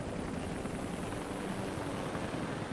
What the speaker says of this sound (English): Oh, more helicopters.